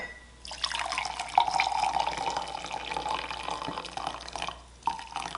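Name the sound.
pouring diluted Wilton's Ivory colour into a container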